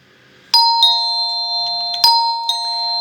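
A wired doorbell pressed repeatedly, giving four bright, sustained electronic chime tones in close succession, each ringing on and overlapping the next, loud and close with no talking.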